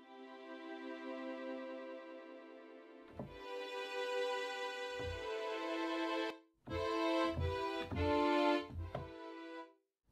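A sustained synth tone processed through Kilohearts Snap Heap plugins arranged in parallel, its texture shifting partway through, then broken into choppy gated bursts with low thumps; quiet and with no talking.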